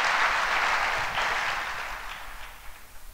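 A church congregation claps in a dense burst of applause that gradually fades out over a few seconds.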